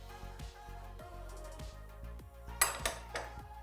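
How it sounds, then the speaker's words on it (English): Spoon scraping and clinking inside a bowl while stirring pumpkin muffin batter of melted butter, egg, vanilla and pumpkin puree, with repeated soft knocks and a few sharper clanks near the end, close and moderately quiet. "So let's stir all this up"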